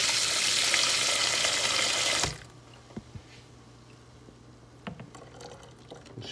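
Water pours loudly and steadily into a container while a homemade carpet-cleaning defoamer is mixed, then stops abruptly after about two seconds, leaving quiet room sound and a few small knocks.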